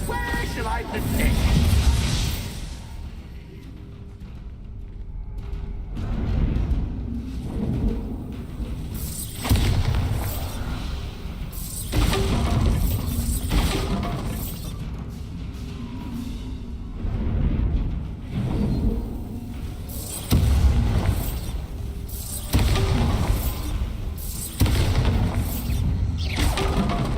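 Bombarda blasting spell in Hogwarts Legacy, a series of heavy booming explosions with shattering debris recurring every few seconds, loud and close over game music and a speaking voice.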